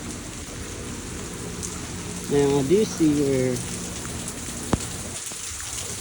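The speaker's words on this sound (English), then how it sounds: "the heaviest rain." Heavy rain pours steadily during Hurricane Debby, a constant dense hiss throughout, with someone briefly speaking over it midway and a single sharp tap near the end.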